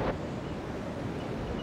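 Wind blows at sea near a lighthouse, a steady low rumbling roar that buffets the microphone, with a brief louder gust at the start and no speech.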